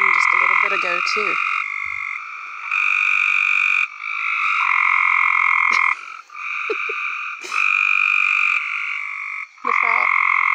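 Many frogs croaking together outdoors after a strong storm, in a loud, steady chorus that breaks off and resumes in waves, with a few lower calls mixed in.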